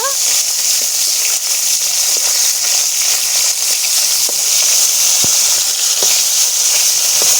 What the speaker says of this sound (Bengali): মাছগুলো উল্টে পাল্টে ভেজে নেব।